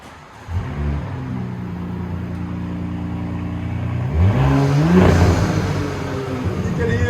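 A 2019 Audi SQ5 with dual exhaust and the muffler removed idles loudly up close, then climbs through a strong rev around the middle and settles into a raised, rumbling idle.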